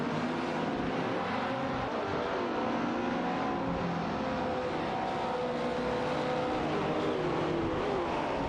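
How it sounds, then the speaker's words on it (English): Race cars in a racing video game, including a Ford Escort Mark I, roar continuously with dense layered engine noise as several cars run the track together, loud and steady throughout with no talk. "Abby MD is behind the wheel of a Ford Escort Mark I, while Koki Binani is maneuvering a Tiver Griffith 200."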